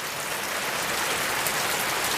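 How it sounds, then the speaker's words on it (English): Warm rain falls steadily outdoors in a dense, even hiss of drops with no pauses or other sounds. "if it's just raining like it is right now, good warm rain"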